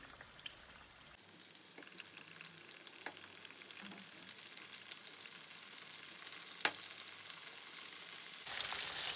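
Homemade KFC-style chicken fries in hot oil over medium heat, giving a steady broadband sizzle with scattered pops and crackles that grows slightly louder toward the end, with no talking.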